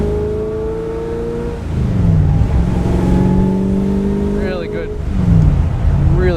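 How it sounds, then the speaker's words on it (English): A 1968 Chevrolet Corvette convertible accelerating hard with side-pipe exhaust, a loud, near engine note that climbs, drops at a shift, then rises again in a strong rev. "great exhaust note from those side pipes"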